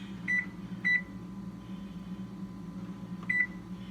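Electronic beeps from an oven timer being set: two quick beeps, a pause, then another beep, over a steady low appliance hum.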